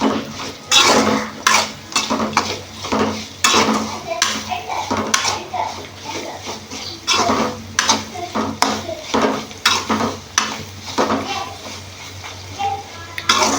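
Ivy gourd (dondakaya) fry is stirred and tossed in a pan with a spoon, giving repeated scraping and clattering strokes over a low sizzle, close and clear, while someone talks throughout.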